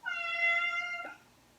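A cat gives a single clear, drawn-out meow, close and fairly soft, trailing off into quiet.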